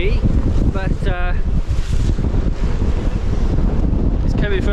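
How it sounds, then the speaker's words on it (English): Wind gusts buffet a sailboat riding at anchor in the Marlborough Sounds of New Zealand, a loud, constant rushing roar over the microphone with faint creaks and rigging noises mixed in. "It's windy, but it's coming from the southeast, the wind, so we should be fine on anchor."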